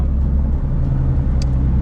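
A tuned Toyota JZX100 with a 3.4 stroker engine drives through town, its steady low exhaust rumble close and continuous with no voices.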